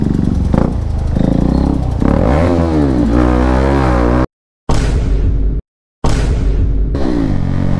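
A motorcycle engine revs hard while riding off, loud and close, with rising and falling throttle blips and a rough rumble that cuts out abruptly twice between bursts.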